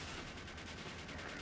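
Gunfire in the Team Fortress 2 video game, a dense, continuous rattle of shots filling the whole short moment at close range.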